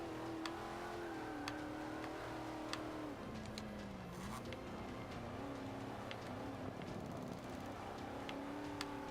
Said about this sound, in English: you'll see me shift into fourth like that quite a bit.